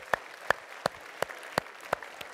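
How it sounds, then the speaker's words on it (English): A few slow, evenly spaced claps ring out from an audience at a speaking event, about seven sharp, separate hand-claps in a steady rhythm against a quiet room. "give yourselves a big round of applause"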